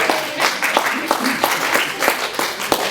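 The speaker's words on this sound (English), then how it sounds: "so could you give him a round of applause?" Audience applause at a birthday tribute, a scattered crowd clapping steadily for a few seconds with individual claps standing out, fairly close.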